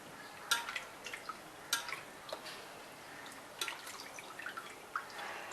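Crabs being rinsed in water for an Aagri-style stuffed crab dish, with quiet drips and small splashes sounding in irregular bursts, close but soft, with no talking.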